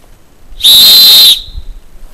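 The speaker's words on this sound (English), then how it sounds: "the whistle in our survival kit. The Peerless Fox 40 micro whistle" A Peerless Fox 40 micro survival whistle gives one short, piercing, very loud blast of under a second, shrill and steady, alone in a quiet setting.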